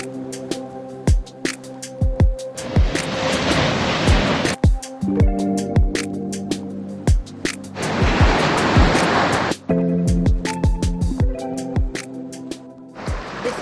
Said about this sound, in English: Unfortunately the waves are absolutely humongous and the tide is really high